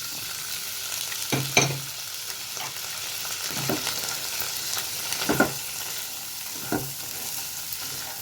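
Boiled chickpeas fry in a pan with a steady, close hiss, broken by several sharp scrapes and clinks of a spoon stirring them at irregular intervals, with no voices.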